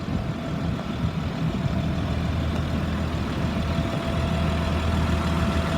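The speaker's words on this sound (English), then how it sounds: "It idles smooth, it revs up nice." A 2004 Blue Bird All American 72-passenger school bus engine idles with a steady, low diesel rumble, close and continuous with no talking.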